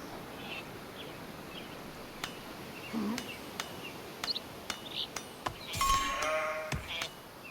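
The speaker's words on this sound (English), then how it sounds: "Ooh, there was 2 sheep here." Sheep in the Viking strategy game Northgard bleat in a few short calls midway through, over a faint ambient game backdrop with scattered clicks and chimes.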